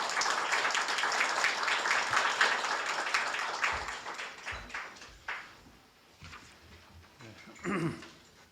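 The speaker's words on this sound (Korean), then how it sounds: "박수로 맞이해 주시기 바랍니다" Audience applause at a literary award ceremony, the 30th Daesan Literary Awards, dense clapping at first that thins into scattered claps and fades, with a few late claps and a brief voice near the end.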